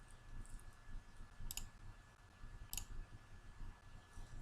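Mouse clicks on a computer while working in the Power Query Editor: two short, sharp clicks about a second apart, faint against a low steady hum, with no talking.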